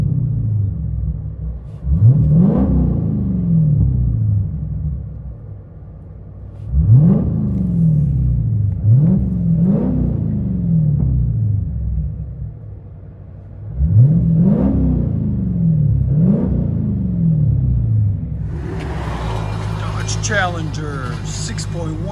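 A straight-piped Dodge Challenger SRT/8 with a 6.1-litre HEMI V8 and a six-speed is revved from inside the cabin, producing repeated sharp throttle blips that rise and fall over a deep idle rumble, ending in a rougher, noisier stretch.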